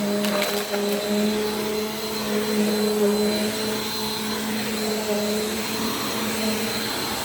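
A Bissell PowerForce Compact vacuum picks up dry cat food, its steady loud motor drone running throughout with a few brief rattling pickup sounds near the start, no voices.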